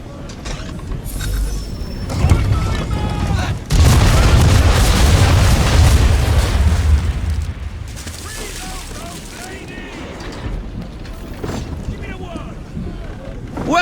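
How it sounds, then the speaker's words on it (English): Ship cannons fire a broadside in the video game Assassin's Creed 3, a heavy booming salvo with rolling rumble amid wind and creaking sailing-ship ambience, loud for several seconds then easing into softer sea noise. "Bring around broadside, and when all guns are on target, call fire."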